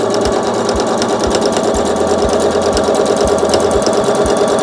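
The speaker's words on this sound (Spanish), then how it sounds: "Y ahora voy tirando de la prenda y voy pasando el pespunte." Sewing machine stitching the seam of a circular skirt, running a steady, loud, close mechanical whir with regular rhythmic knocks about twice per second, with no talking.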